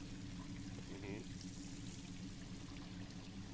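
A container emptied of water in the survival game DayZ, a continuous low pouring rush that holds steady throughout, with a brief murmur of voice near the start.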